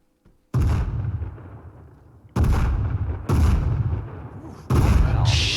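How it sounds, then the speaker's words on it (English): Big mortar rounds exploding in the military shooter Arma 3: four heavy, close blasts at irregular intervals, each a sharp loud crack followed by a long rumbling roll-off, after a brief quiet start. "Those are some big mortars"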